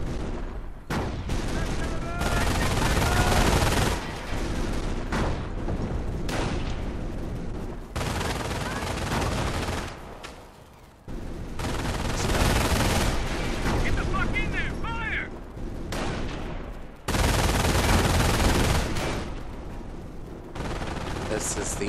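Sustained World War II battlefield gunfire in Company of Heroes, heavy bursts of rifle and machine-gun fire with booming blasts in long, loud waves broken by brief lulls, with voices shouting in places.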